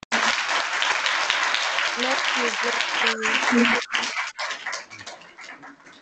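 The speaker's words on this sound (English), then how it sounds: "Everyone, uh, once again, we welcome you with big claps." A congregation claps at a healing and testimony service in Nepal, a dense, loud wash of applause filling most of the clip, with a voice talking over it and a dog whimpering briefly before the clapping fades out.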